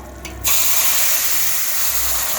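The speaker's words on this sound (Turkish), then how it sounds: "Evet helvam kavruldu. Şimdi şerbetini dökeceğim." Hot syrup is poured onto roasted semolina flour halva in a pan, giving a sudden loud, steady sizzling hiss that carries on without a break.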